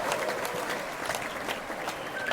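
A studio audience on a talk show claps steadily and enthusiastically throughout, a dense, even wash of applause greeting a guest's entrance.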